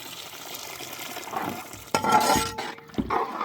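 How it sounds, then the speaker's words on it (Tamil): Water poured into a pan of sweet potato slices fried in ghee for a milk kheer, a sudden splash and sizzle after quiet stirring, with clinks of a utensil against the pan. "இப்போ தண்ணி ஊற்றி வேக வைக்க போகிறோம்"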